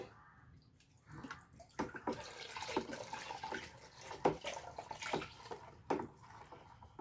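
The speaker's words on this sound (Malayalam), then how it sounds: "ഇതിനി ഞാൻ കുറേശ്ശെ വെള്ളത്തിലേക്ക് ഒഴിച്ചിട്ട് നമ്മളെ ലിക്വിഡിലേക്ക് ഒഴിച്ചിട്ട് ഇളക്കി കൊടുക്കുകയാണ് ചെയ്യുന്നത്" Homemade dishwashing liquid being poured into water and stirred, heard as quiet, close sloshing and dripping with soft liquid splashes at irregular moments.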